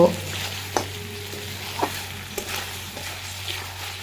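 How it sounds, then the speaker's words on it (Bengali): Desi village chicken fries in a pan with freshly ground cumin paste, a steady close sizzle broken by a few sharp stirring scrapes and taps, with no voices. "সেই বাটা জিরেটা দিয়ে দেব দিয়ে আবারও কিছুক্ষণ কষিয়ে নেব"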